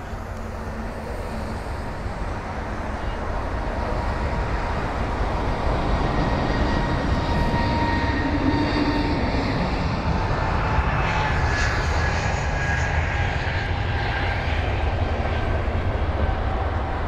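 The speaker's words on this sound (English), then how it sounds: "the A320neo for our next departure, British Airways" A British Airways Airbus A320neo taking off at London Heathrow, with a broad engine roar that swells and stays loud, whining tones sliding across it as the jet passes fairly close.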